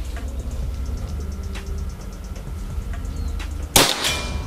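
A PCP Predator air rifle with an unregulated slug barrel fires a single slug at a 50-metre range, giving one sharp, loud crack near the end after a stretch of low background rumble and faint ticks.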